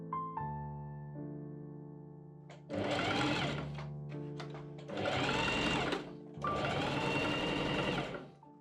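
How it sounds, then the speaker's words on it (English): A sewing machine stitches the back of a Regency men's waistcoat to the front along the sides, running in three distinct bursts of rapid buzzing, each lasting about two seconds, with a quiet mechanical hum between them. "I pin and machine sew the back to the front along the sides."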